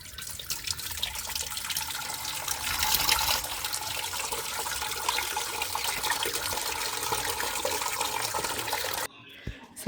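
Water runs from a neighbour's tap as it is drawn for household use, a steady rushing flow that holds at an even level and then cuts off abruptly just before the end.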